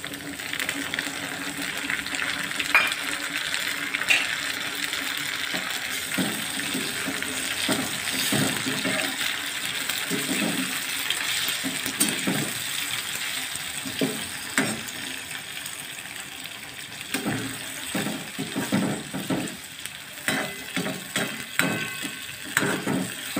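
Tomatoes dropped into browned onions frying in a pan over low-medium heat, a steady close sizzle with scattered clicks and stirring knocks throughout.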